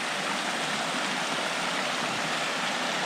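Snowmelt water runs and drips steadily from a spring thaw beneath a deep snowpack, a dense continuous rushing wash that stays even and close throughout.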